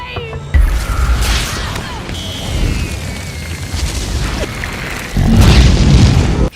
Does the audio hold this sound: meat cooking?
no